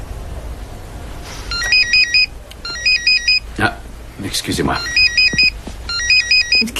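A mobile phone ringtone plays repeated bright electronic melody bursts in a fairly quiet room, ringing several times while a person speaks briefly between the rings.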